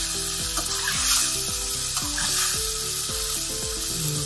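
Chicken liver fries in a pan with a steady, bright sizzle, broken by repeated scraping stir strokes at roughly half-second intervals, close and moderately loud with no talking.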